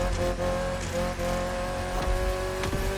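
A Lancia Rally 037 rally car in The Crew Motorfest brakes and corners with a loud, steady engine drone and tonal whine, with faint tire scrubbing as it slows and turns, continuous and close.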